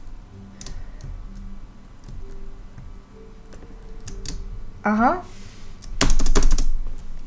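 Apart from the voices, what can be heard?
hammering on a computer keyboard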